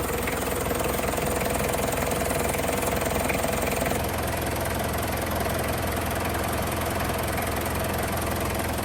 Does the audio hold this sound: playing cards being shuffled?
no